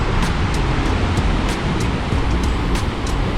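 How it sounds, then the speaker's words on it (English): Ocean waves crash and surge continuously at Tanah Lot temple on the Bali coast, a loud, steady roar of surf with wind buffeting the microphone and no voices. "Good thing I have these waves"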